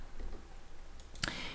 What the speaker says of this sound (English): and then right mouse click again